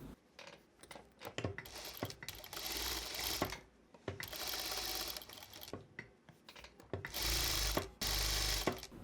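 Sewing machine stitching around the edge of a fabric piece in bursts, the motor whirring loudly with rapid mechanical clatter and brief pauses between runs.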